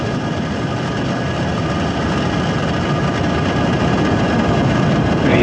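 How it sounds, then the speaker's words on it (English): A SpaceX Falcon 9 rocket carrying Project Kuiper satellites thunders at liftoff with its engines at full power. The roar is loud, dense and continuous, swelling slightly as it goes on. "Ignitions, engines full power, and liftoff"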